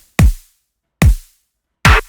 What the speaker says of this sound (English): Together they make that kick sound.